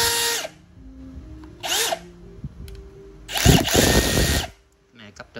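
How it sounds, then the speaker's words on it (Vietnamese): A Milwaukee three-function power drill whirs in several short bursts, two brief spins and then a longer, louder run, with pauses of near quiet between them. "Khoan 3 chức năng anh em"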